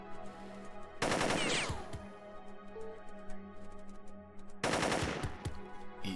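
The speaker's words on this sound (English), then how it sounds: "It may be blind fire, but it's forcing them to move, I think." Machine gun blind fire in Jagged Alliance 2 rattles out in two loud, rapid bursts, one near the start and another later, with quieter game sounds between them.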